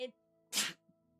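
One sharp, close sneeze bursts out right after a short voice, followed by a faint breath.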